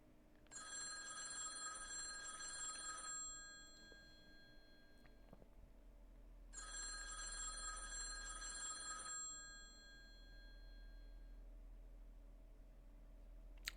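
Two long bursts of a game telephone's bell ringing in Z.A.T.O., each lasting a few seconds with a pause between, loud and alone over a low steady hum.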